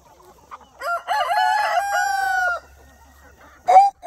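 A rooster on a homestead crows loudly and close in one long, wavering call, followed by a short pause and a sharp squawk or cluck at the end.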